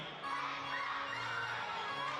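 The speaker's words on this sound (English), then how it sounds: "Home crowd kind of trying to get involved here" A home crowd at a women's basketball game in the WNBL cheers and shouts. Loud, sustained yelling and whoops fill the arena, with high-pitched voices rising together.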